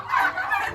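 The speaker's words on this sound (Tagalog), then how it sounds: "Ito nga pala yung aming mga pabo." Domestic turkeys on a farm let out a quick, close burst of gobbling, under a second long.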